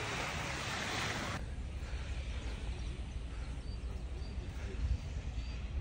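Surf washing onto a beach near a coral reef, a steady broad rush of breaking waves with wind buffeting the microphone, continuous and fairly loud.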